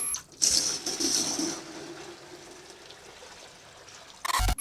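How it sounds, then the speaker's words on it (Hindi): Water pours from a clay pot (matka) into a vessel in a soft, continuous splashing stream that gradually quiets, ending with a brief louder splash. "अब हम इस पानी को किसी एक बर्तन में लोट लेते हैं"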